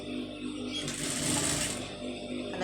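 A sewing machine stitches a patch onto a blouse sleeve, a steady fast whirring run that swells louder midway, close and without speech.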